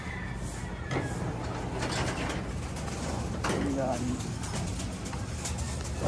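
Breeder pigeons coo softly in an enclosed loft, low murmuring calls amid rustling, with occasional sharper noises and a voice speaking now and then.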